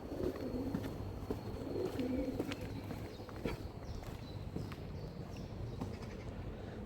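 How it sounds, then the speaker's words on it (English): Pigeons coo under a canal bridge on the Leigh Spur of the Leeds and Liverpool Canal near Wigan. The soft, repeated murmuring coos sit close by over a low ambient rumble, with faint clicks and taps. "Pigeons agree."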